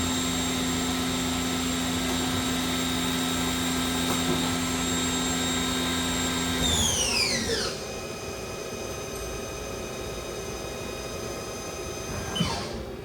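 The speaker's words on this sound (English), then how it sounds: "the following video is a HAAS SL-10 CNC lathe, new 2006" HAAS SL-10 CNC lathe from 2006 running with a steady high whine from the spindle, which winds down sharply midway into a lower hum, followed by a brief clunk near the end.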